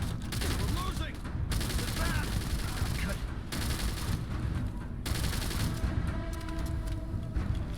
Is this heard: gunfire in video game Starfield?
yes